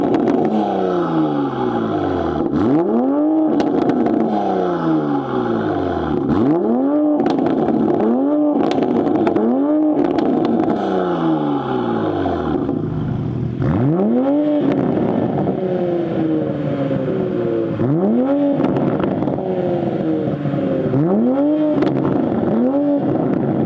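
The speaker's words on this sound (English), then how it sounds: "Now the AWE, you get 3-inch piping, which is about 76mm around there, and let's hear how it sounds." A car fitted with AWE 3-inch (76mm) exhaust piping revs repeatedly, each sharp blip climbing and then falling away in a steady rhythm of roughly a dozen loud, close throttle bursts, with no talking.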